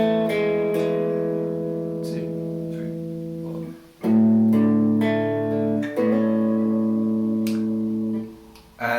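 Electric guitar playing a riff, sustained chordal notes with a few sharp picked attacks and chord changes at roughly two-second intervals, close and clear with no talking.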